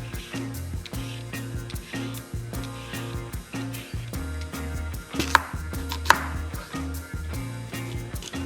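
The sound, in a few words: chopping vegetables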